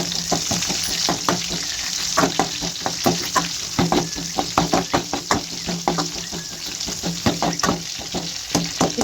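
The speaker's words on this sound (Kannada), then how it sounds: "ಸ್ವಲ್ಪ ಈ ಥರ ಫ್ರೈ ಆದಮೇಲೆ ಹಸಿಮೆಣ್ಸಿನ್ಕಾಯಿ ಹಾಕ್ಕೊಳ್ತಿದ್ದೀನಿ" Green chillies fry in a pan of oil, a steady sizzle broken by frequent sharp knocks and scrapes of a spatula against the pan, close and fairly loud with no voices.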